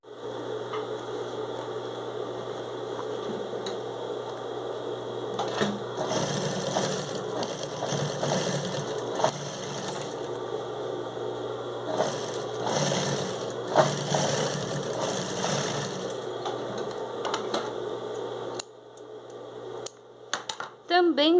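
A domestic sewing machine stitches the side seams of a fabric cosmetic pouch, whirring steadily in bursts of fast mechanical rattling with short pauses and a hum underneath, ending with a quieter stretch and small handling knocks.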